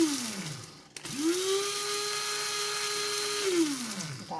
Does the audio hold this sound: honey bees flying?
no